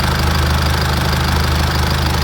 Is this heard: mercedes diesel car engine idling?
yes